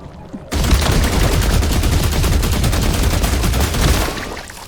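Sustained burst of automatic gunfire in The Last Caretaker video game, loud and close, rattling continuously for about three and a half seconds with no talk, then fading out.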